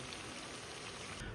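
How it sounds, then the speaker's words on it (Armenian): Steady rain falling in a backyard on a rainy day, a dense even patter of drops that stays constant throughout, with no voices. "օրը անձրևային, հիմա դուրս ենք գալիս backyard"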